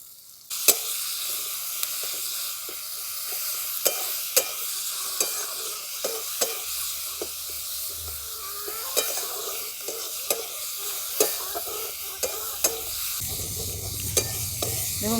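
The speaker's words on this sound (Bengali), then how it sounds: "দেখুন পেঁয়াজ আর টমেটোটা ভালো করে ভাজা ভাজা করে নিয়েছি।" Onion and tomato frying in oil in a pan with a steady sizzle throughout and regular sharp clinks of stirring, close and fairly loud, with no talk.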